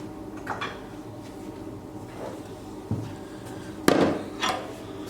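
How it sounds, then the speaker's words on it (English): Big round wooden mallet striking the exhaust pipe being formed for a 1937 Manx Norton racing motorcycle, a few separate knocks spaced over several seconds, the loudest near the end, over a low steady workshop background. "Hit that with a big round wooden mallet."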